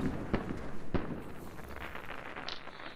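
Cannon fire during a PvP battle in ARK: two sharp, booming shots land about half a second apart, then a rumbling, crackling roar carries on at moderate loudness, with a later brighter burst near the end.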